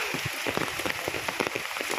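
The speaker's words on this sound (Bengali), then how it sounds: "দেখো কি পরিমাণে বৃষ্টি হচ্ছে" Heavy rain pours down on Jessore Road near a market, a loud, dense and continuous patter of drops hitting surfaces close by, with no voices.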